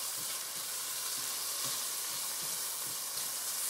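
Garlic sizzles in a hot frying pan during a Haitian-style rasta pasta cook, a steady close crackle and hiss with occasional stirring knocks and no voices.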